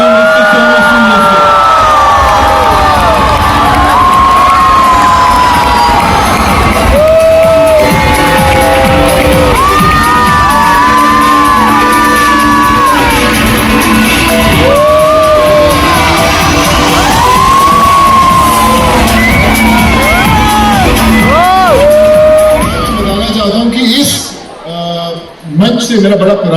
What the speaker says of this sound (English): Can I have a big round of applause and can I welcome Mr. Sonu Sundar?